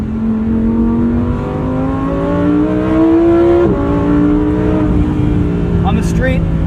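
A 2023 Lamborghini Huracan Tecnica, a mid-engine rear-wheel-drive car, revs steadily on the street from inside the cabin, its engine note climbing gradually through the gears with a brief shift near the middle, loud and continuous.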